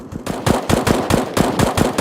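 Rapid gunfire from Glock pistols and MP9 submachine guns in a Counter-Strike match, an ESEA tournament game: dense bursts of loud, close shots cracking in quick uneven rhythm for the whole stretch, with no talk over them.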